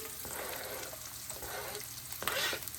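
Browned onions and ginger sizzle in a hot pan for South Indian upma: a dense, even frying hiss, close and moderately loud, swelling slightly near the end, with no talking.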